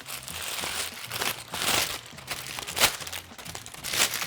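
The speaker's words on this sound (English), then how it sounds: "when you crinkle up your parchment paper, then it lays flat and the edges don't curl" Parchment paper is crumpled and crinkled by hand beside a sheet pan in a home kitchen, giving a continuous close, loud crackling with bursts of sharper rustle and no talking over it.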